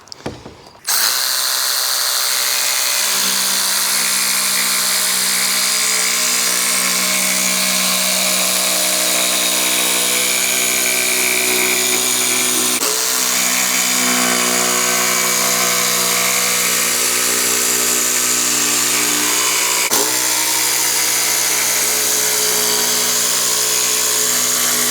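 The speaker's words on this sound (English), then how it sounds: "We're using our cordless Bosch jigsaw blade, and I put a scroll saw blade in it so it doesn't tear the veneer up" A cordless Bosch jigsaw fitted with a scroll saw blade cuts veneered material in one long, loud, continuous run, its steady motor whine briefly dipping twice.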